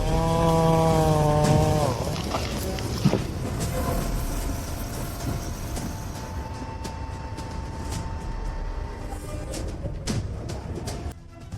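A stump grinder grinding a stump roars loudly and continuously with a heavy engine drone and scattered crunching and knocking, no voices.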